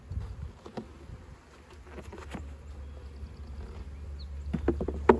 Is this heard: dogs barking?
no